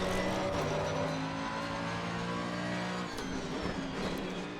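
A Mercedes GT3 Evo race car accelerating in Assetto Corsa, the engine droning loud and constant with harmonic tones rising and shifting through gears, close and unbroken, no talk.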